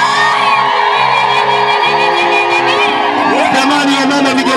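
Women in a church congregation ululate and cheer loudly, high warbling trills and whoops overlapping in a continuous, dense crowd sound with shouting voices throughout.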